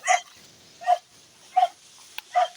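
Dogs named Yutura and Bantay on a farm bark four short, sharp times at an even pace, close by, greeting their owners at night with no talk over them.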